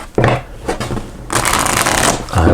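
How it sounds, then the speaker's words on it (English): Cards of a large tarot deck corner-shuffled, giving bursts of riffling flutter with a long sustained crackling run in the middle, loud and close with no talk. "Let's try a corner shuffle."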